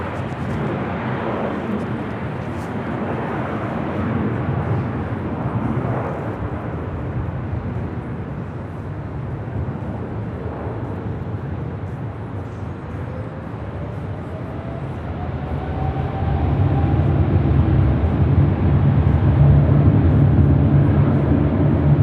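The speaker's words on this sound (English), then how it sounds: "Again, this is Air France Flight 65 heading back to Paris in this 777-300ER." Air France Boeing 777-300ER, 17 years old, bound for Paris, roaring on its takeoff run from runway 24 left at Los Angeles International, a loud sustained jet rumble that swells louder toward the end.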